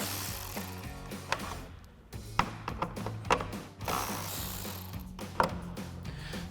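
A hand ratchet clicks rapidly in short bursts while loosening headlight screws on a 2011-2016 Ford F-250, close and fairly quiet, with brief pauses between strokes.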